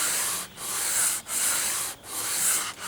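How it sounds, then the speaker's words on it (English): Sandpaper rubs across a wooden part for a nylon-string acoustic electric guitar in four long, even strokes, each broken by a brief gap, close and alone. "it didn't seem to be sanding on the edges very well"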